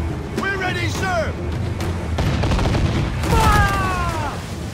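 Ship cannons fire in a naval battle in the video game Assassin's Creed IV: Black Flag, several heavy booms spread across the moment while voices shout orders over them.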